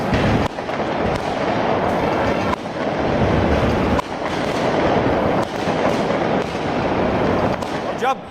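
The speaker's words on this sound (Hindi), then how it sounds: "आतिशबाजी हो रही थी, लोग पटाखे फोड़ रहे थे" Fireworks and firecrackers go off in celebration in India as a dense, loud series of crackling bursts and pops that repeats in waves, with a voice talking over them.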